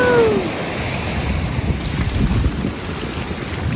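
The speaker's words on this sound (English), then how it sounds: "Some decent sized waves breaking over here." Large waves crash and surge onto the shore during coastal flooding on a barrier island, a steady broadband roar with heavy wind buffeting the microphone throughout.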